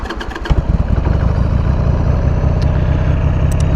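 A 1998 Harley-Davidson Sportster 883 engine cranks, catches and settles into a loud, close, lumpy idle with a steady rhythmic thump, running in freezing winter air.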